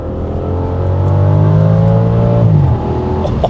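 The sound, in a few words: Audi estate car with Lamborghini V10 engine revving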